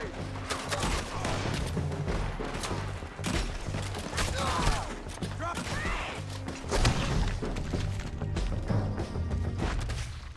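Artillery fire in Red Dead Redemption 2, a sustained barrage of booms, gunshots and crashes rolling through the whole stretch, with shouting voices mixed in.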